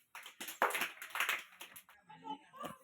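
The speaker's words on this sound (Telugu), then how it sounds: "క్లాప్స్ కొట్టండి అనన్యకి" A group of Anganwadi children claps for a classmate, producing a short, uneven burst of many small hands at close range under talk. The clapping fades out before the end.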